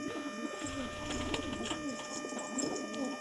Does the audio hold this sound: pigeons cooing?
yes